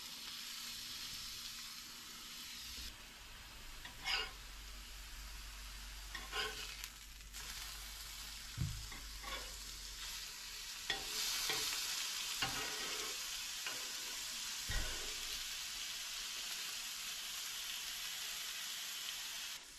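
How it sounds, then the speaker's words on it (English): Lean venison-era bacon sizzling slowly on a cast iron griddle, a steady soft frying hiss with occasional louder pops and the clink of utensils, close and fairly quiet. "As our bacon is sizzling in the back pan"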